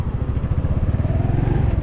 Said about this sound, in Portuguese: Acompanhe comigo aí esse passeio aqui de moto